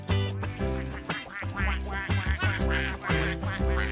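Farmyard ducks quacking loudly and close up, in a rapid run of overlapping nasal calls that barely pause across the whole stretch, with no speech.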